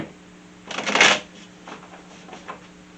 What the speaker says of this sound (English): Give me a shuffle here, my cards